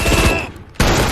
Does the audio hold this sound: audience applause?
no